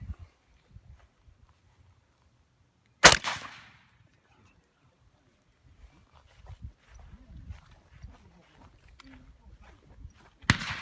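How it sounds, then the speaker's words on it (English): A real shotgun fires trap loads at a forged 7075 aluminum rifle receiver, giving one sharp, loud blast with a short echo. A second report comes near the end, with quiet handling noise and faint voices in between. "We're going to use a real shotgun, trap loads, see how durable is it, and see if it'll withstand a shot."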